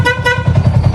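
A Sniper 150 motorcycle horn sounds steadily at close range, a bright harmonic tone with a low pulsing rumble underneath.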